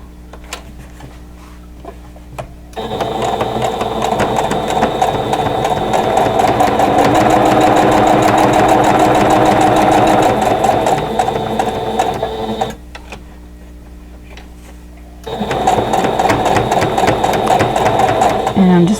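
A sewing machine stitches a quilt block in green thread, humming steadily in one long run of about ten seconds, then starting again after a short pause.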